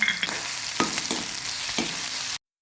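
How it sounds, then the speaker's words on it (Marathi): Green chillies and ginger-garlic paste fry loudly in oil after cumin and mustard seeds have crackled, a dense close sizzle broken by a few stirring scrapes before cutting off abruptly. "जिरे मोहरी चांगली तडतडल्यावर त्यात हिरव्या मिरच्या घालायच्या आहेत त्यानंतर आले लसूण पेस्ट घालायची आहे आणि हे चांगलं भाजून घ्यायचं आहे"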